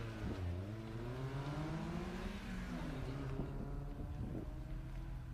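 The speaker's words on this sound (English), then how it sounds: "Here comes our C8 Corvette." A Chevrolet C8 Corvette race car drives an autocross course, its engine a loud, steady droning roar that climbs and falls in pitch as it accelerates past.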